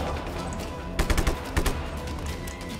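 Bursts of gunfire from the video game Just Cause 3, with rapid shots clustered around the middle of the clip over a steady game background rumble, loud and close.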